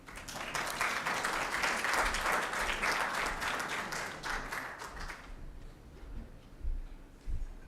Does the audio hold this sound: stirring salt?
no